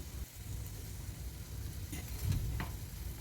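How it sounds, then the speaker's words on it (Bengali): Marinated mushrooms going into frying masala: a close, constant sizzle with stirring and a few brief scrapes and clatters near the end, with no voices. "এবার এর মধ্যে ম্যারিনেটেড মাশরুমগুলো আমি অ্যাড করে দেব"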